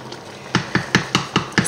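Veal paupiettes cooking in a pan, with a faint sizzle under six evenly spaced clinks, like a utensil tapping or scraping the pan in a steady rhythm.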